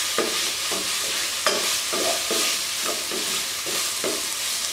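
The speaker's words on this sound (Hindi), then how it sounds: "तो अभी हम इसको और ज़्यादा भूनेंगे, इतना भूनेंगे कि इसमें पूरा टिक्के का टेस्ट आ जाए" Spiced chicken pieces for a tikka-style chicken bread filling being stir-fried in a pan, a steady loud sizzle with regular scraping strokes of a spatula about twice a second, close and without talk.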